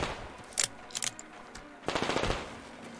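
Automatic gunfire from a firefight in the video game Metro Exodus, several short sharp bursts followed by a longer sustained rattle of shots, fairly loud and close, with no talking.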